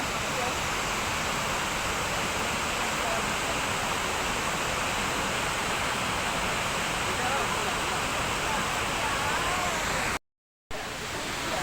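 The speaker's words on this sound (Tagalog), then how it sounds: "Dito po kami sa Taiwan waterfall" The waterfall at Shifen, Taiwan, roars as a loud, steady broadband rush of falling water, constant and close, with a brief dropout near the end.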